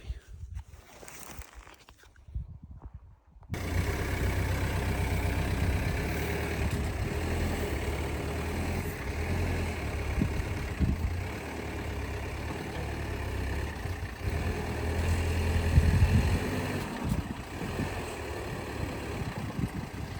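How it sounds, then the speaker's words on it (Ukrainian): A T-25 tractor engine runs after a short quieter opening, settling into a steady low diesel rumble that holds close and even for the rest of the stretch, with a slight swell partway through. "Зустрічаємо в ефірі Т-25."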